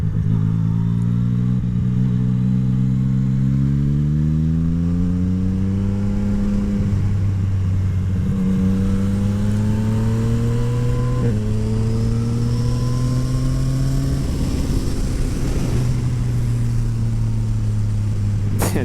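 A Yamaha MT-09 motorcycle fitted with a full Akrapovic exhaust accelerates hard through corners near woods, its loud engine note climbing in pitch through repeated gear pulls, each rising whine broken by brief shift dips, with no talking.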